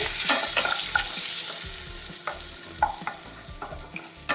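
Eggs coated with turmeric and Kashmiri chili powder being stirred in a pan, a steady sizzle with irregular scraping strokes of the spoon spread through the stretch, close and moderately loud.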